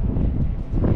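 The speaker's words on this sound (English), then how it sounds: "it's very windy up here" Strong wind buffets the microphone on the open upper deck of a cruise ship docked at Nassau in the Bahamas, a loud, continuous low roar with gusty swells and no break.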